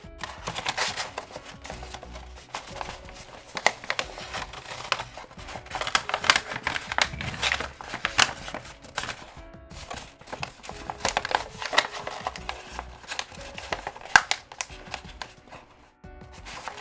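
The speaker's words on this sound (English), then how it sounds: "let's go ahead and get this wrapped up real quick" Paper being handled while a present is wrapped, giving a steady run of crinkling, tapping and cutting-like handling noises at close range, fairly quiet with no talk.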